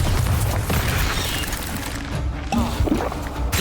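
A Bombarda spell detonates in Hogwarts Legacy, a loud, dense blast of booming noise with crashing debris that holds steady for several seconds.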